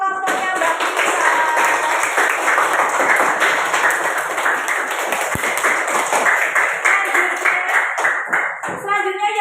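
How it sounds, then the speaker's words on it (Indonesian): Classroom of students clapping after a group presentation in a nutrition lesson, a lively, uneven burst of hand claps close by with some voices mixed in, lasting several seconds. "Tepuk tangan untuk kelompoknya Mbak Lisa."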